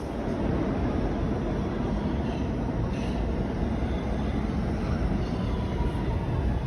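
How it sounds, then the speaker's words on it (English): Inside a newer New York City subway train on the C line running underground toward Brooklyn, a loud, continuous low rumble and rattle of wheels and carriage fills the car with no clear pauses. "we're now getting a ride on the newer underground trains running on the Sea Line"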